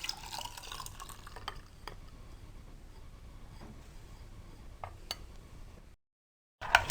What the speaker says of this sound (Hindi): अब इसमें जूस मिला दीजिए।